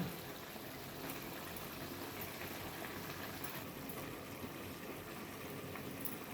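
Egg omelette pulusu curry simmering in a covered pot, a steady soft bubbling hiss that stays even and close throughout with no talking.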